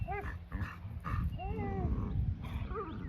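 Several dogs barking, yipping and whimpering excitedly at close range in rapid bursts, with a person's voice murmuring among them.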